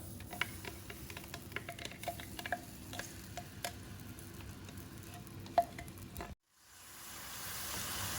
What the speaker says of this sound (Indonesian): Sudah tumis sampai agak harum ya.